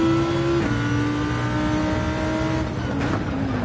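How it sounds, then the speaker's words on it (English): A racing car engine in Gran Turismo 7 drones with a loud, steady, buzzing tone that dips slightly and then climbs again as the revs change, continuous and close with no talk. "I love the sound of this car as well."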